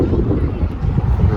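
Strong gusting wind on a hot, dusty day near Palm Springs buffets the microphone with a loud, low, rumbling roar throughout.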